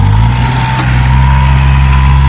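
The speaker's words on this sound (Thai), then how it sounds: "นี่เอามาดูรถไถ รถไถเอวสามสองนะครับ" A Kubota L3-32 tractor engine idles steadily close by, a loud continuous low drone with a constant hum and no talk.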